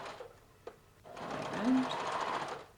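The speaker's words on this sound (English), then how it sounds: "Now we're going to start sewing in." A sewing machine stitches the inner leg seam of organic-fabric joggers, a few soft handling knocks, then a steady close whirring run of stitching that lasts for well over a second.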